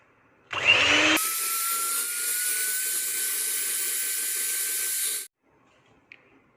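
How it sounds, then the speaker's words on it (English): An electric whisk beats eggs and sugar into a fluffy cake batter for a grape and basil cake, a loud steady whir starting abruptly and running for about four seconds before cutting off, with no talking. "And we'll whisk this till the sugar is incorporated in the egg and the eggs are quite fluffy."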